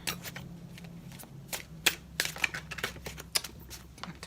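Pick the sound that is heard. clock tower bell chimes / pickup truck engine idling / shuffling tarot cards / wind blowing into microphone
shuffling tarot cards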